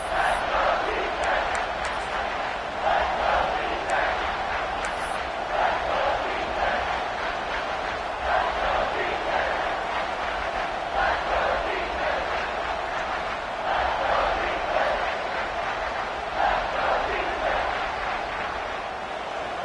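A packed football stadium crowd at a Florida versus LSU game roars steadily as the defense is backed up near the goal line, a dense wall of cheering with rising swells and continuous commentary over it.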